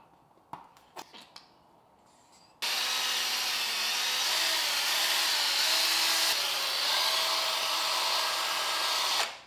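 A drill spinning a buffing pad polishes the plastic of a 2004 KTM 85SX dirt bike, a loud steady whir that starts abruptly after a few faint taps and handling clicks and runs continuously to the end.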